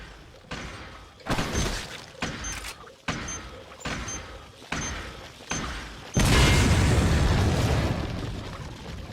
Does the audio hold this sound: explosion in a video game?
yes